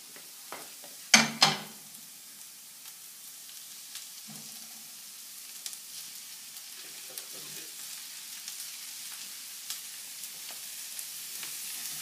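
Ground meat for a ragu browning in a pan, with a couple of loud clattering hits early on as it goes in, then a steady quiet sizzle throughout.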